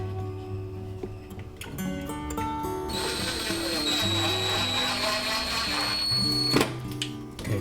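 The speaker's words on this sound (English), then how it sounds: "So now I'll drill a hole through that" A power drill bores a hole in a wall for a wall anchor, its motor whining and rising in pitch through the middle before stopping abruptly, close and loud with no talking over it.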